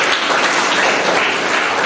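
Dense crowd applause from an audience at a teacher award ceremony, a loud continuous wash of many hands clapping at once with no voices over it.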